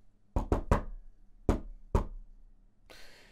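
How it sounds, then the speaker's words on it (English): Knocking on a door, three brisk strokes in quick succession, a pause, then two more spaced knocks, close and sharp, followed by a faint rustle. "Derby's knock is 3 brisk strokes followed by 2 more"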